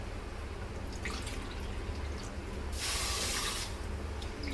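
Water being poured into a pan with sugar to make sugar syrup, a brief close splashing rush over steady background noise, no talking.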